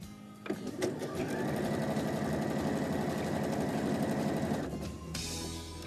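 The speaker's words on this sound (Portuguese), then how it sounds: "vou passar uma costura de demonstração" A sewing machine runs a demonstration seam on patchwork fabric, a close, loud, continuous mechanical whirr of about four seconds that starts and stops abruptly, with no talk during the run.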